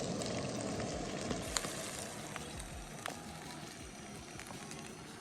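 Cooked basmati rice sizzles in a hot pan while egg fried rice is made outdoors in snowy weather, a steady close frying hiss broken by light scraping and stirring clicks.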